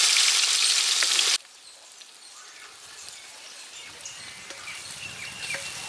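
Cinnamon, cloves and small shallots dropped into hot oil give a loud burst of sizzling that cuts off abruptly, followed by a softer, quiet crackle of frying.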